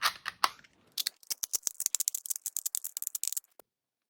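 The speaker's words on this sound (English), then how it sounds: "let's shuffle the cube." A Rubik's Clock puzzle is shuffled with a fast run of sharp plastic clicks and ratcheting snaps, close and dense, after a few softer handling knocks at the start, then it stops abruptly.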